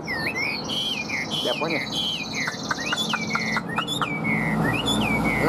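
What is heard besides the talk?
tame bird singing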